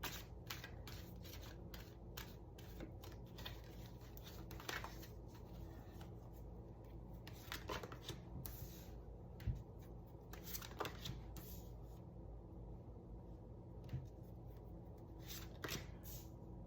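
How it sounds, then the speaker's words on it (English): Soft, continuous riffling and papery slapping of cards being shuffled, with scattered crisp flicks over a low steady hum, close and fairly quiet. "Just get a good shuffle on these cards."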